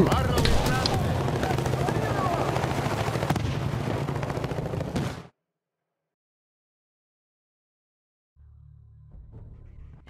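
Helicopters thump in the video game Battlefield Bad Company 2, rotor drone mixed with bursts of gunfire for about five seconds before the sound cuts to silence, then faint game audio returns near the end.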